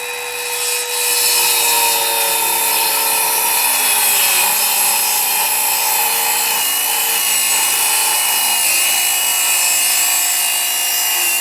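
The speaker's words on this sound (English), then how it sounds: "Let the saw do its work. Listen to it. Nice and gentle." A hand saw cuts through an oak beam for timber framing, making a loud, close, continuous rasping that holds an even rhythm throughout.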